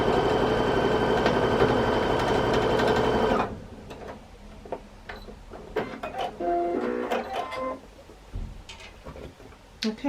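Sewing machine stitching a cornerstone onto a quilt block runs as a steady, loud mechanical hum for about three seconds, then stops and leaves faint scattered clicks and handling noises.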